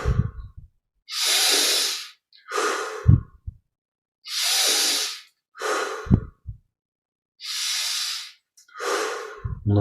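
Slow, deep breaths during a guided meditation exercise, with long airy inhales and exhales repeating in an even cycle, close and clear against near silence, with no talk.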